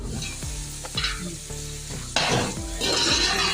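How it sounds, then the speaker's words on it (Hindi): Browned onions and garlic paste sizzle and fry in a pot while a spoon scrapes and stirs through them in repeated strokes, a close, steady crackle with no voices. "बीच के अंदर पेस्ट आ रही है लहसुन का।"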